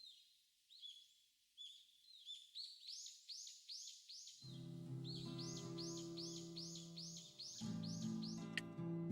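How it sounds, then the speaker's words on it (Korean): Early-morning birdsong drifts in through a window in the video game Lucy: The Eternity She Wished For, a soft repeating series of chirps and trills, faint and steady, joined halfway by a low sustained musical drone. "이른 아침 창문을 통해 새소리가 들려온다"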